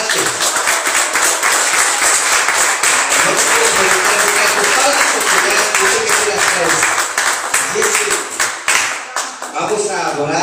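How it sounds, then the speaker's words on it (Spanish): A church congregation applauds steadily throughout, dense clapping from a crowd filling the room, while a voice talks over it toward the end as the applause thins. "Vamos a darle un fuerte aplauso a Cristo Jesús"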